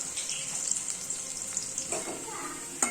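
Half a spoon of cumin seeds sizzles in hot oil in a pan, a close, steady hiss and crackle with scattered sharper pops toward the end.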